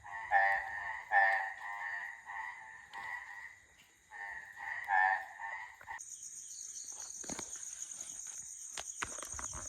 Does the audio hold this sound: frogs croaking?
yes